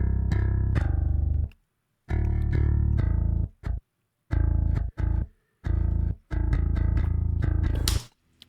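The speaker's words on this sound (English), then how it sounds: "just a kind of really decent quality sounding bass DI" A clean, already compressed MIDI bass DI signal with no added processing plays sustained, buzzy low notes in phrases separated by short silences, ending with a brief sharper attack.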